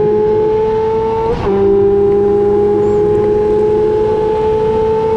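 A motorbike accelerates along the back straight of the Dubai Autodrome circuit with a loud, steady, high engine drone; the pitch drops briefly at one gear change, then the drone climbs on and holds.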